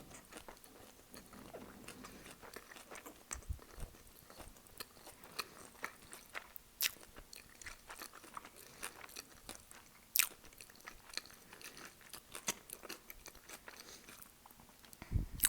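Sushi rolls being eaten in a mukbang setting, with close, quiet crunchy bites and soft chewing scattered irregularly throughout, no talking.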